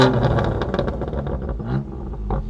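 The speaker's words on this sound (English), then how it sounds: "we'll have Lauren do rev time again." The engine of a 2020 BMW M2 Competition in Hockenheim Silver revs hard and close, a loud, throaty exhaust roar that climbs and falls in quick surges with no talking.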